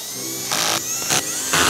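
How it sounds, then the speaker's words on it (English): A power driver tightens skateboard foot pad screws in three short whirring bursts, close and loud, with brief pauses between them. "I'll go back and tighten up the foot pad screws"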